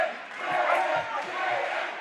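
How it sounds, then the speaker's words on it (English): A boxing crowd at a Sparta Sports and Entertainment event in Denver, Colorado roars and cheers for Jaydon Vigil in a loud, swelling wash of voices, with a commentator talking over it. "Crowd getting behind Jaydon Vigil"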